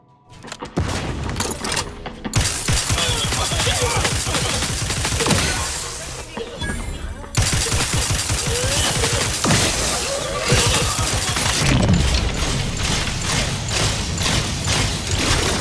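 Sustained gunfire and impacts in The Outer Worlds 2 sci-fi shooter, with dense, loud, continuous volleys, booms and shattering crashes that run almost unbroken from start to finish, with voices occasionally under the din.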